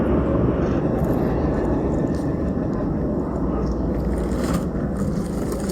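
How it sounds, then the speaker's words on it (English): A helicopter flies close overhead, giving a loud, steady broadband roar with a low thumping throb that lasts the whole stretch, mixed with wind buffeting. "Being followed by a freaking helicopter."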